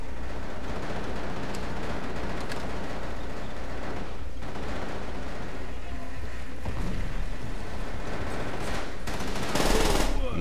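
MG42 machine gun fire in Call of Duty: World at War, sustained dense gunfire and battle noise throughout with a louder burst near the end, under a speaking voice.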